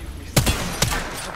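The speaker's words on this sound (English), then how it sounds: "Opening fire." Gunfire from the video game Apex Legends: two sharp, loud shots half a second apart cut through a busy background, with no speech.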